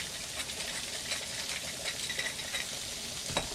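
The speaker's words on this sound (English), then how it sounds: "So I've got my onions going here, adding some salt, pepper." Onions frying in a pan, seasoned with salt and pepper, give a quiet, steady sizzle with faint crackles and one or two soft stirring clicks, close up and with no one talking.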